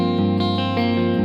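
A brief, basic clean tone rings from an Ibanez electric guitar through a Laney Lionheart combo amp, with a sustained chord strum that is loud and close.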